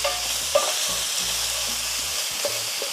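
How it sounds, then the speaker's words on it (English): Diced ham frying in achiote-tinted oil, a steady close sizzle with scattered pops and a few scraping stirs, no voices. "Then we're going to add our diced ham"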